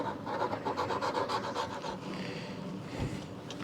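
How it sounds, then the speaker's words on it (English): A steel chisel scrapes old seal adhesive residue off a vacuum cleaner's surface, a steady, close rasping rub for several seconds with no talking. "I think I'm just going to use a chisel here and get off any of the remaining adhesive or residue from that last seal."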